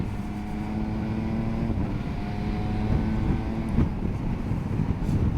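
MV Agusta 900 Veloce Enduro motorcycle accelerating on the road, a steady engine drone whose pitch rises and shifts, mixed with heavy wind rush throughout.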